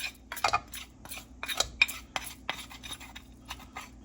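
A utensil scrapes and clinks against a bowl while salmon croquette mixture is mixed with mayonnaise, onion powder, garlic powder and onions, giving irregular light taps and scrapes, close and fairly quiet.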